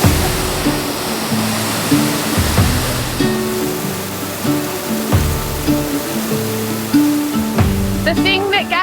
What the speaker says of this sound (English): when I see a waterfall of this size, this torrent of water